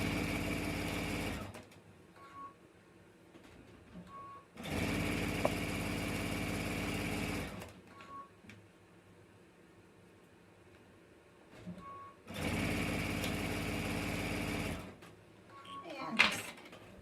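A sewing machine stitches bias-cut fabric over piping cord, letting the material feed on its own, in three steady whirring bursts separated by quiet pauses with some talk between them.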